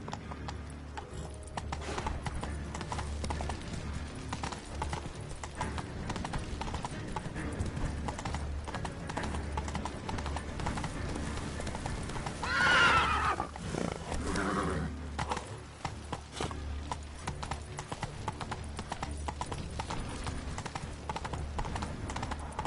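Hooves of Roach, a horse in The Witcher 3, pound in a steady galloping clip-clop close by and loud, with a brief whinny-like burst midway and continuous game ambience underneath.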